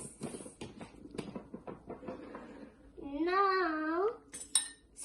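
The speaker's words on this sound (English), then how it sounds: "stir it again. Stir, stir, stir." A spoon stirs lemonade in a glass or pitcher, making a run of quick light clinks and taps, with a voice briefly heard speaking over it.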